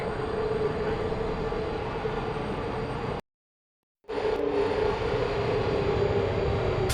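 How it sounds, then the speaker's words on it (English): Elevator lift in the video game Portal Stories: Mel moving, a steady loud mechanical rumble with a hum, cut by a brief silent gap before the same drone resumes. "The elevator, it wasn't going to my testing track, so I've rerouted the lift."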